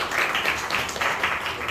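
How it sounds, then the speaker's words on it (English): Applause at a school interns' farewell, a dense wash of clapping from an audience that holds steady and fairly loud for under two seconds. "Give me a round of applause, please."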